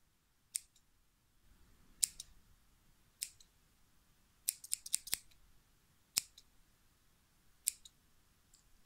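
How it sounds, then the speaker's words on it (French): Scissors are handled up close in a quiet ASMR setting, giving sharp, isolated metallic snips and clicks, some single and a quick cluster in the middle, with no voice. "Un ciseau."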